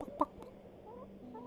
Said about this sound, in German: Erstmal wieder einen Huhn streicheln.